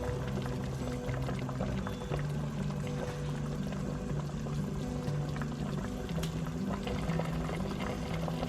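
Pork rib soup (bak kut teh) comes to a boil in an Instant Pot on sauté mode. Continuous bubbling and burbling liquid runs through the clip, with faint tonal sounds in the background and no speech.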